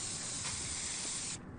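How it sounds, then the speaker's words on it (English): Spray paint hissing from an aerosol can, a steady close broadband spray held for over a second before cutting off abruptly, used for painting footprints outside a Calgary school. "footprints were spray painted and banners hung outside of Calgary's Langevin School"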